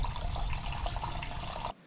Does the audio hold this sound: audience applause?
no